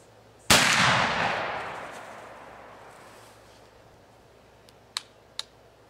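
A single loud rifle shot from a rolling block rifle loaded with Blackhorn powder, a sharp blast that rings and decays over a few seconds outdoors, followed by two faint distant clicks.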